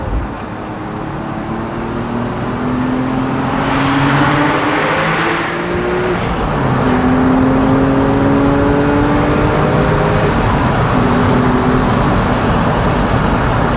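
A Porsche fitted with a lightweight flywheel revs while driving, its engine note rising and falling through gear changes with a steady whir and road roar, heard from inside the car.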